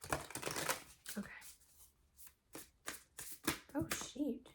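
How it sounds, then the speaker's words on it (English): Crisp riffling and flapping of tarot cards being shuffled in irregular bursts, close up, with someone speaking softly in between. "These cards are a little hard to shuffle, so give me a second."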